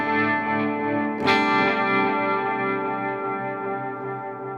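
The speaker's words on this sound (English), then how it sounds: "here's the trem with the delay after" Ambient electric guitar passes through a tremolo pedal followed by a delay pedal: a sustained chord is struck again midway, then rings out with pulsing echoes that slowly fade.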